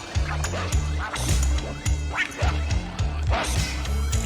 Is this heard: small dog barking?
yes